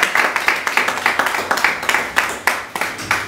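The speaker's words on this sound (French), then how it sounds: "Nous allons une fois de plus applaudir pour la sœur." Audience applause at a Congolese press award ceremony, a steady wash of many hands clapping at close range for a little over three seconds, with no voices over it.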